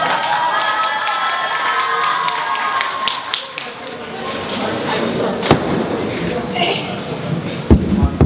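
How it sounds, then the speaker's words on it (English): An audience at a summer debate camp orientation cheers and applauds as a teacher comes up to the podium, a loud crowd roar with whoops, thumps and scattered claps, voices mixed throughout. "Teacher Holly, please come out the podium with a loud applause."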